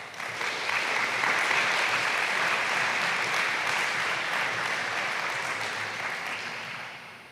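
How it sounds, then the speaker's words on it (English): Audience clapping at a university academic recognition night, a dense steady wash of applause that rises quickly, holds for several seconds, then tapers off near the end. "it was really, really good to hear University clap again"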